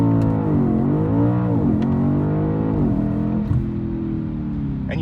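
An Audi B8 RS5 launches from a standstill with the throttle floored. The engine note rises and falls in strong harmonic sweeps before settling into a loud sustained drone, heard close up with no voices.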